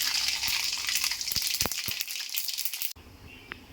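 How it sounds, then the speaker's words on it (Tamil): Mustard seeds crackle and sizzle in hot oil with scattered sharp pops, the frying steady and close before cutting off abruptly near the end. "எண்ணெய் சூடாக இருக்குது, கொஞ்சம் கடுகு சேர்த்துக்கிறேன்."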